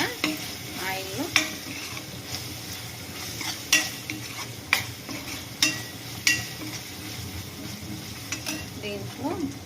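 Onions frying in oil with curry leaves and chillies, a constant soft sizzle punctuated by repeated sharp scrapes and taps of a spatula stirring the pan.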